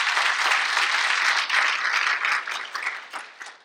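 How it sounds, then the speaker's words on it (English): Audience at a school district state-of-the-district event claps in a dense, sustained round of applause that stays loud, then thins out and fades over the last second. "Give them a big round of applause."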